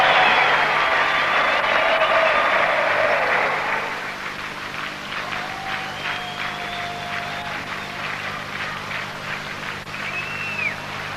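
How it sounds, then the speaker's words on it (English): Cricket crowd at Kingsmead applauding Allan Donald as he walks down to fine leg during South Africa v Pakistan, a broad roar of clapping that is loud at first, then drops and lingers more softly with scattered crowd noise. "No doubt Alan Donald will get a tremendous round of applause when he gets down the fine leg."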